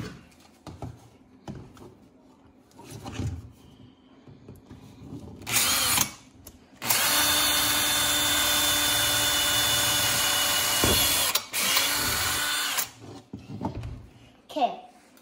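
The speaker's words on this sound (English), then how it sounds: "So first, I'm going to drill a hole in the base." A power drill whines loudly for about six seconds drilling a hole in a homemade lamp base, after a brief earlier burst, with quieter bumps and handling noises around it.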